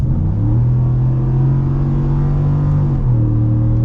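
A 2022 Ford F-150 Black Ops pickup's 5.0 Coyote V8 holds a loud, steady low rumble from inside the cab while coasting, then the pitch drops slightly near the end.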